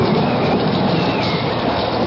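Steady rain effect from a radio mystery drama, a dense, even hiss of falling rain filling the whole stretch at constant loudness with no voices.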